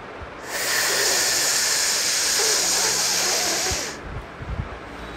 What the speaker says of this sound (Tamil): அதோடு சேர்த்து நம்ம மூச்சு இழுக்க போகிறோம்.